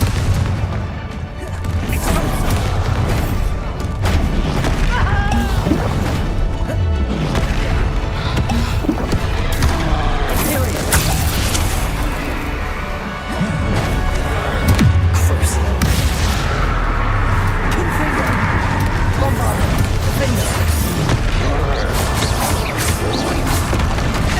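A Confringo fire spell explodes in Hogwarts Legacy during a battle against Ranrok's forces, with heavy booms and crashing bursts layered over continuous loud, dense combat noise throughout.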